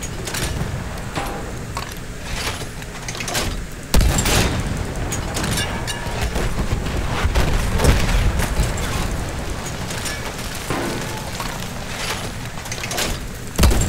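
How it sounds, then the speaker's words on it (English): Anti-aircraft cannon firing at a dreadnought battleship in the Battlefield 1 video game: a dense, continuous barrage of loud booming shots and blasts, with a heavy impact near the start and steady rattling fire throughout, no voices. "I'm gonna fire at the dreadnought"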